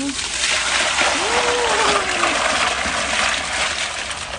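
Water pours and splashes in a container while something is washed indoors, a steady continuous rush close by, with a voice speaking briefly over it.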